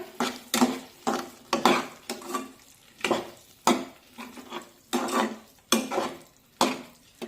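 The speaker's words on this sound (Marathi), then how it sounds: "आता यामध्ये हे उकडून घेतलेले मटार टाकूया, मिक्स करून घेऊया" A spoon scrapes boiled peas through masala gravy in a pan, making about a dozen rhythmic, close stirring strokes with a soft sizzle between them.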